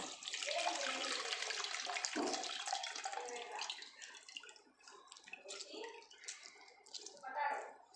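Water pours steadily into a cooking vessel for a Rayalaseema-style dish, a continuous splashing gush that thins out midway, with faint background voices.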